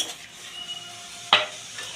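A spatula scrapes through a paste of black mustard, white mustard and poppy seed in a cooking pan for a fish curry. There is a soft sizzle, then one sharp metallic clank of utensil against pan near the end.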